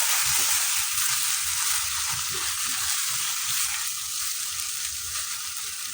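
Pasta sauce seasoned with soy sauce and salt sizzles and fries steadily in a pan while being stirred, a continuous close hiss with soft scraping under it.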